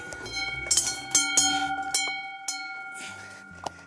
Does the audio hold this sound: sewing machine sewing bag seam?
no